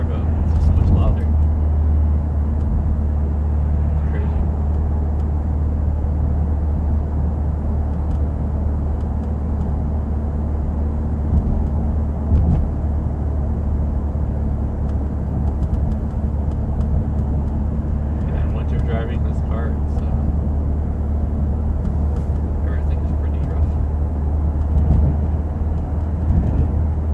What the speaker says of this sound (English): you can really hear the car, like the engine and the turbo